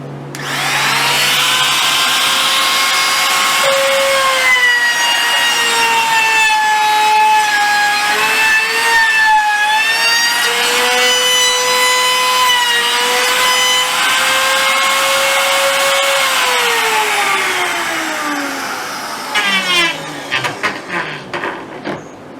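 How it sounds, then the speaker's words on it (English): A small router fitted with a chamfering bit cuts the edge of a wooden crate handhold, a loud, steady high-pitched whine with shifting pitch as it bites the wood, then spins down with a few short bursts. "we'll take a little router with a chamfering bit in it"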